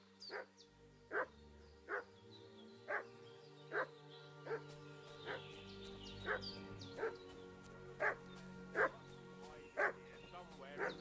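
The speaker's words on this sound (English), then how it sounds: "What's that dog making such a fuss about?" Dog barking over and over in the medieval Bohemian countryside of Kingdom Come Deliverance II, roughly one bark per second at a steady distance above a droning ambient background of game music.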